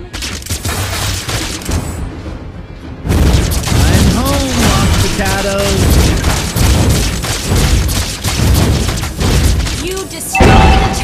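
A turret is destroyed in the Mobile Legends mobile battle game: loud booming bursts and crackling blasts fill a busy mix of game effects, with voices heard over the action.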